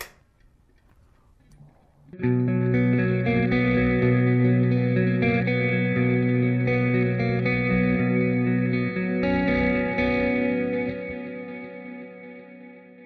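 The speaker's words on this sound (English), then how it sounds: "you have the reverb and you've got the delay." After a quiet start, a clean electric guitar chord through the Neural DSP Archetype Gojira X rings out, sustained with lush reverb and echoing repeats that slowly fade, then another strum follows.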